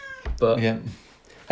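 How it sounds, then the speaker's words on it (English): Indoor cat giving a single short meow in the middle, close and clear, with people speaking just before and after it. "That's the cat."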